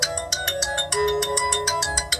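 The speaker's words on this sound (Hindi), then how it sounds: "अचानक मानसी का फोन बजा" A phone ringtone plays in short repeated electronic tones with a bright melodic pattern, loud and close, no voices.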